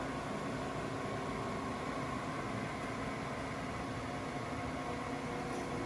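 Steady broadband machine hum and hiss from an AMC K2000-U automatic crankshaft grinder running with coolant oil flowing, continuous and even throughout with no talk.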